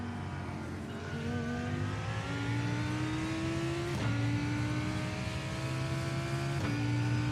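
An LMP2 prototype race car in the iRacing sim at Daytona, its engine revving steadily through upshifts, pitch climbing then dropping at each gear change, loud and close with no talk.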